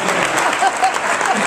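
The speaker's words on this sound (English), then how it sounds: "Give them a round of applause." Audience applause for hypnotized volunteers at a stage hypnosis show, a short, dense burst of steady clapping from a close crowd, with no talking over it.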